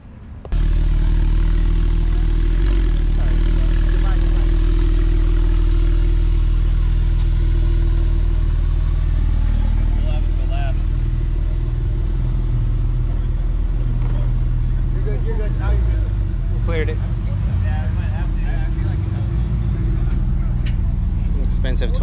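Car engine idling and rumbling steadily up close as the vehicle is pushed back in neutral at a cars-and-coffee meet, a continuous low drone throughout with voices talking over it.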